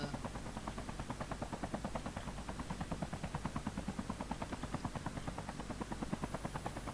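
Steady rhythmic rotor chop of a helicopter in Call of Duty Mobile, loud and continuous throughout with a fast even pulse and no voices over it.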